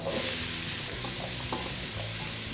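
Onions and chickpeas sauté in a hot pan with a steady close sizzle, broken by a few scraping stirs of a utensil; no voices.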